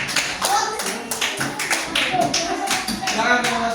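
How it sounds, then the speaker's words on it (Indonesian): Classroom applause for the first student group about to present, a dense run of hand claps and taps lasting a few seconds with voices mixed in. "Tepuk tangan untuk kelompok 1 yang akan terlebih dahulu."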